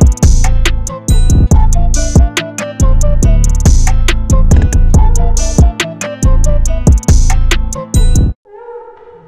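A producer's programmed drum beat plays loud and upfront, with punchy kicks, snappy hits and busy hi-hats looping steadily for about eight seconds before cutting off to a faint tail.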